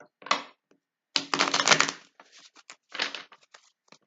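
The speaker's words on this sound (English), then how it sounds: "so let's shuffle a few more cards" Tarot cards shuffled by hand, crisp papery riffles and flicks in short bursts with gaps between them, close and fairly quiet, no talking.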